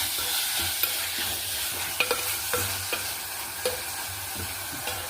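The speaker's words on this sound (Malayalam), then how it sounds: "എന്നിട്ട് നല്ല മിക്സ് ചെയ്തിട്ട് ഇത് തക്കാളി ഒന്ന് വെന്ത് വരട്ടെ" Tomatoes and onions stirred while cooking in a pan, an even sizzle broken by sharp scraping knocks of the spoon at irregular intervals, close up with no talk.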